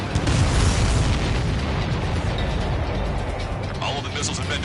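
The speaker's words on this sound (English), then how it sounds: "Strider 1, missile away." A missile launches and detonates in the Ace Combat 7 flight game, heard as a dense, continuous roar of booming blasts and rumble that stays loud throughout.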